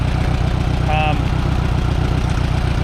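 An Allis Chalmers tractor engine idles with one spark plug wire pulled, giving a loud, steady low chugging rhythm close by, with a brief tonal whine midway.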